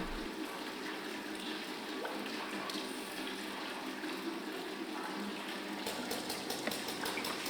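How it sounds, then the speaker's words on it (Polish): Hands are washed under a stream of running water, a steady broadband splashing rush continuing throughout with a few brief clicks near the end. "Starannie obmywa dłonie pod strumieniem wody."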